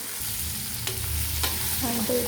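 Masala for a snakehead fish curry fries in a pan with a steady sizzle and occasional scraping stirs, close up and continuous, with no talk.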